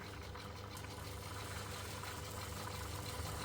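Lister G stationary engine idling at about 600 RPM, a steady low, even chugging beat throughout at a quiet, constant level.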